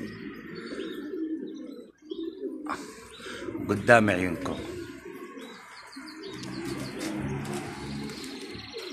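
Pigeons coo and flutter nearby in an outdoor setting, while someone talks over them throughout.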